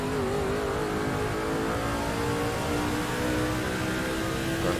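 A race car engine in the Nascar 06 video game drones and revs continuously at high pitch, loud and steady with no speech.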